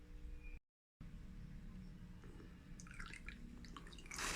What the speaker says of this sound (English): Let's put the vinegar in the volcano crater.